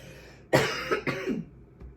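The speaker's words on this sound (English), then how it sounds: "I'm over here burping, coughing." A person coughs a few times in quick succession, close and fairly loud, with a rough throat-clearing quality and no speech.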